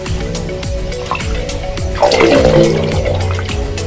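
Water gurgles and sloshes through the tubes of the San Francisco Wave Organ at high tide in repeated surges, hollow and close, swelling louder midway before settling back into a churning wash.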